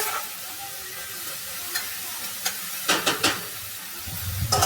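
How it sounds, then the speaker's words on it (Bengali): Sizzling fry in a pan with a few scraping stirs of beans, a short cluster of clinks midway, steady hiss throughout. "বিনসগুলোকে নাড়াচাড়া করে ভেজে নেব"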